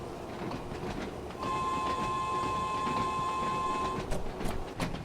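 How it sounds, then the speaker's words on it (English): Electric commuter train on the Island Line in Train Sim World 2 accelerating under power, with a steady motor whine and rising tones over a rumbling rolling bed, a few sharp clicks near the end. "You hear this train is now accelerating well."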